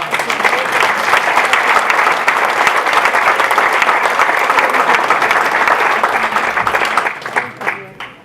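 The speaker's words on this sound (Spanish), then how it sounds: "Oye, un aplauso." Loud, dense applause from an audience at an anniversary talk, steady and close for most of the stretch before tapering off into a few last scattered claps.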